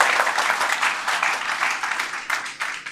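Loud, dense applause from an audience at a stage event or public meeting, with clapping continuing steadily and unbroken throughout.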